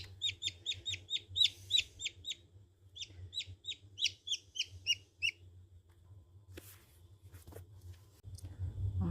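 Black Arco chicks peep in a rapid series of high, evenly spaced chirps inside an incubator, loud and close, then fall quiet as faint handling noises follow.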